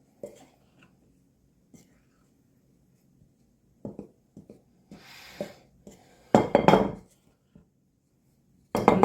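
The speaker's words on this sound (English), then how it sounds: "So mix that all around in there" Dry cake batter ingredients with baking powder stirred in a bowl for a butter pecan cake, heard as sporadic scrapes and clinks that build into louder rubbing bursts near the end, with faint whispery voice sounds between.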